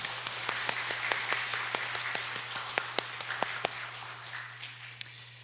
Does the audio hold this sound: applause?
yes